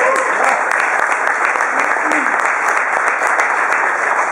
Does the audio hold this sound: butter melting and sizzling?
no